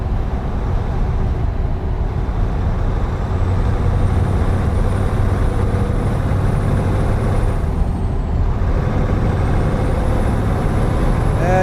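A stock Scania truck in Euro Truck Simulator 2 drones with a steady low engine rumble, with a faint high whine rising and falling over it, and no talk.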